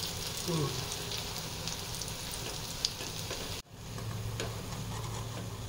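Masoor dal fritters fry in hot oil with a steady, close sizzle and crackle that runs throughout, broken by a brief drop near the middle before the frying noise resumes.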